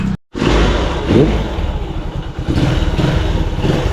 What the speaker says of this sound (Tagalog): Nagbago na yung ano, tunog ng motor.